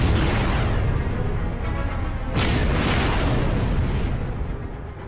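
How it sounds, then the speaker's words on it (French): Deep, heavy booming blasts from the battleship Bismarck's 380 mm guns rumble continuously, with a sharp fresh burst partway through that rolls out into a long, loud, thundering roar. "quand ses 8 canons de 380 tirent en même temps"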